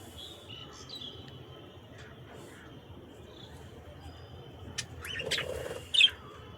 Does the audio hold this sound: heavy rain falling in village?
no